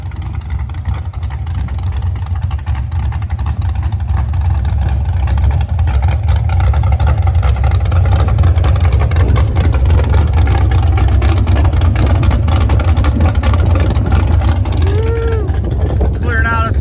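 A 6.0 LS V8 in an El Camino running at a shop test pad, a loud, steady, deep exhaust rumble held throughout with a brief squeal near the end, under occasional talk.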